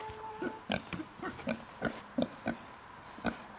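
Pigs on pasture grunt and oink in short, scattered bursts, close by and moderately loud, with a faint steady hum in the background early on.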